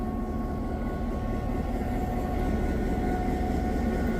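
The diesel locomotive engine of a Hocking Valley Scenic Railway Santa train in Nelsonville, Ohio, idles nearby with a steady, dense low rumble and faint tonal hum, unchanging and unbroken, with no voices.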